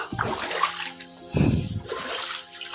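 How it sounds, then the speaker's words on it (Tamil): Water splashes and sloshes as feet are washed in collected rainwater, a few bursts of splashing with a louder surge midway, close by and heard alone. "நல்லா கால் கழுவலாம்ப்பா"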